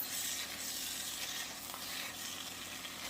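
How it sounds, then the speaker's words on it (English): Vegan hamburger dip being stirred and mixed in a container, giving a steady, continuous soft scraping and squelching texture with no pauses, close and moderately quiet, with no one talking. "go ahead and give this a good stir and a good mix"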